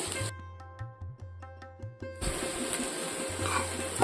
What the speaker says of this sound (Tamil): இந்த வெங்காயம் நல்ல ப்ரௌனி கலர் வரும் வரைக்கும் நம்ம வதக்கிக்குவோம்